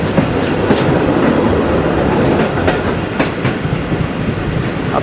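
A train rolls past close by near Margalla railway station in Islamabad. Loud, continuous rumbling carries rhythmic clickety-clack of wheels over rail joints and faint squeals, with no talking.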